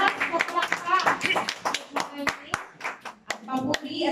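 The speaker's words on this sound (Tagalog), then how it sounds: "Isang palakpak po! Lahat na palakpak!" A church congregation claps hands in praise during a Sunday worship service, sharp uneven claps ringing out close and loud with voices calling and talking over them.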